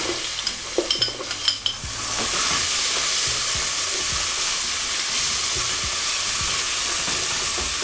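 Onions are dropped into a hot pan already used for lamb shanks and begin to sizzle; after a few light clinks and stirring taps, a loud, steady frying hiss takes over and continues unbroken.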